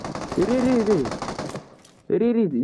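Automatic gunfire in the mobile battle royale game PUBG Mobile, fought in a tunnel with an AWM and Groza, rattles loudly in rapid bursts, mixed with a player's voice talking over it.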